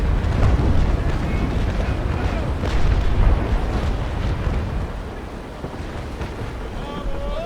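A ship's powder magazine explodes in the age-of-sail naval game Naval Action, producing a loud, rolling boom with a heavy low rumble that slowly dies away under wind and water noise.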